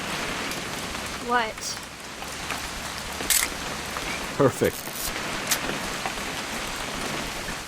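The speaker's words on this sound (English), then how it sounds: "It's gonna rain the whole weekend, isn't it?" Steady rain falls on a surface throughout a hunting-trip scene in the video game What Remains of Edith Finch, a constant close patter with a few brief voices speaking over it.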